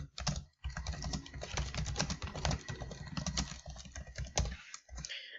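Rapid, steady typing on a computer keyboard, with dense, uneven keystrokes clattering close by and continuously, with no voice over them.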